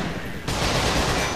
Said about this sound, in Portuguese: Nossa, tem tiro pra todo lado.